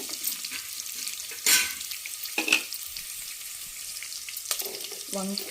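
Onions and garlic cloves frying in a pan for a Telugu stuffed-brinjal masala dish: a soft continuous sizzle broken by a few louder bursts of stirring and clattering utensils, fairly close.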